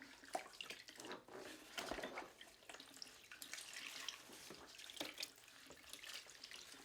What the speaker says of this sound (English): there's a drain here. I open that so it drains the water slowly.